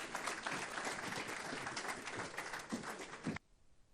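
An audience at a talk on critical thinking and disinformation gives dense, steady applause for several seconds before it cuts off abruptly.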